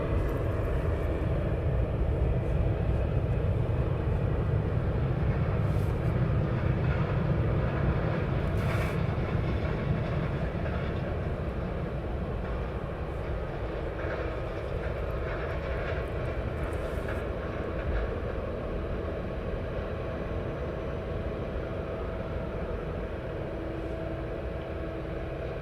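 An aircraft at East Midlands Airport in early morning mist, a continuous loud low engine roar and rumble that holds steady and then eases slightly, with no voices.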